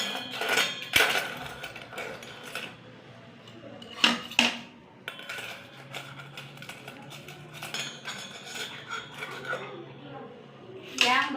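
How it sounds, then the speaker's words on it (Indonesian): Aluminium spoons, ladles and other metal utensils clink and clatter against a pot as they go into boiling water for sterilization, a series of sharp metallic knocks over a low bubbling background. "kita masukkan alat-alat yang digunakan dalam sterilisasi alat"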